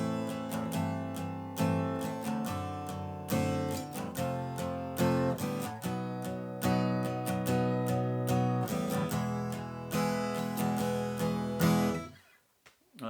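A guitar strums the chorus chords of a song, ringing chords that change steadily through the progression before stopping abruptly near the end.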